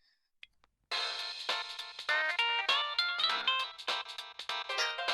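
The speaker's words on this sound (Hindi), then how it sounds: "अंकिता का फोन" After a couple of faint clicks, a mobile phone bursts into a loud melodic ringtone, a bright electronic tune of quick repeating notes that keeps playing without any voices.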